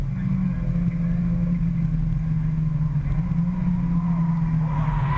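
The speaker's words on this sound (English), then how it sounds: "This is in car with Andrew Caird, number 12." Mazda MX-5 race car engine heard onboard during a BRSCC championship race at Brands Hatch, a steady loud drone held at constant pitch throughout, close and continuous with no talk.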